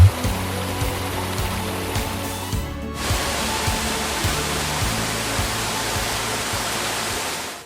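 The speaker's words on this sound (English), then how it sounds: "Rhine Falls" Rhine Falls on the Rhine River near Schaffhausen in northern Switzerland roars as a steady, dense rush of falling water, loud and continuous throughout with no voices.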